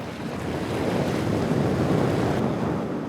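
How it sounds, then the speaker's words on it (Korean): Rough sea waves surge against the shore of a tiny island on a stormy morning, a dense, continuous roar of surf mixed with wind buffeting the microphone. "파도가 거센 아침"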